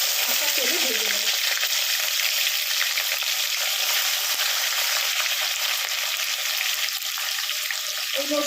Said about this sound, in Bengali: এতে একটু নুন হলুদ মাখিয়ে আমি হালকা তেলে ভেজে নেব।